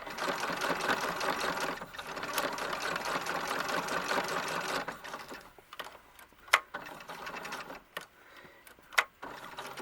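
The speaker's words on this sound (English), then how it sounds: "So I'm just going to top stitch along that edge." A sewing machine top-stitches a doll clothing seam with a steady close whirring run, then slows into short bursts with a few sharp clicks between.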